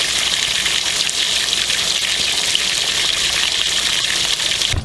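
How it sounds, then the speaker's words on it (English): Water gushes out of an RV fresh water tank steadily in a constant, hissing rush, loud and close, with no pauses or talking. "I'm gonna go ahead and dump the remaining water with that stuff in it."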